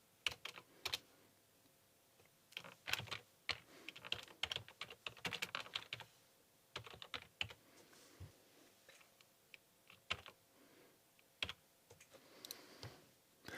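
Typing on a computer keyboard while editing code, a quiet run of irregular key clicks in short bursts and pauses, with no talking.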